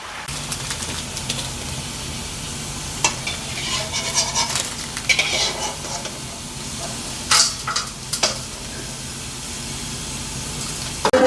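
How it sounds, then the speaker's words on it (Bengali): Chicken frying in a pan for restaurant-style biryani sizzles loudly and steadily, with spatula scrapes and clinks of stirring breaking through at intervals. "চিকেনটাকে ফ্রাই করা হচ্ছে এখন।"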